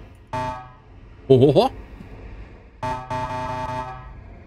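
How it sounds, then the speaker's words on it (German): A truck horn sounds in the space trucking video game Star Trucker, two loud tonal honks separated by a gap, with a short laughing voice between them. "Wir können auch hupen, Leute."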